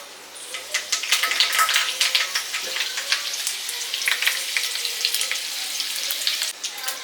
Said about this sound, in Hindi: तेल अब हमारा गर्म हो चुका है, देखो गर्म हो गया तेल। अब इसमें हम सबसे पहले डालेंगे कड़ी पत्ता।